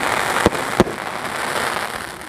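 A large 4-inch pipe firework from Sivakasi bursts at a distance, two sharp booms in quick succession followed by a soft crackling hiss that fades.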